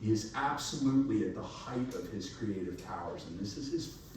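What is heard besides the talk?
No everyday noises stand out.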